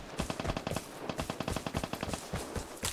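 Automatic L85 rifle fire in the video game Vigor, rapid bursts of sharp shots in quick succession, moderately loud and fairly close, with no talking.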